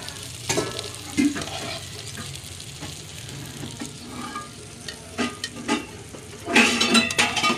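Utensils clatter and scrape in a pan while a breakfast dish is stirred and fried, with intermittent clanks and a louder burst of sizzling and clatter near the end, close and without talk.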